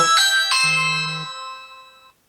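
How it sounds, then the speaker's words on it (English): A loud two-tone doorbell chime, a bright high strike followed by a second lower tone that rings out and fades, no voices. "Oh, the loudest doorbell in the world."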